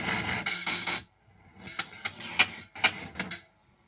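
Teaspoons played as a drum kit through a Dunlop tremolo pedal doubling as a panner: close, dry clattering and scraping bursts, a dense cluster, a brief gap, then several sharper clicky hits pulsing unevenly.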